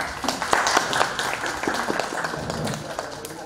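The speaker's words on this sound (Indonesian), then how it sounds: "Silakan tepuk tangan dulu dong." Audience applause at a student council public speaking event, a dense, steady wash of many hands clapping indoors with scattered sharper claps throughout, with faint voices mixed in.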